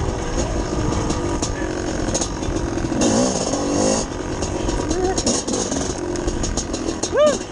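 Two-stroke dirt bike engine buzzing steadily in third gear over tight, rocky terrain, loud and close with revs rising and falling throughout; a voice talks over it.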